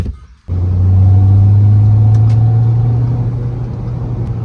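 A car drives along a winding road with bends, its engine rising suddenly to a loud, steady drone that holds for several seconds with a low rumble beneath, and no talking.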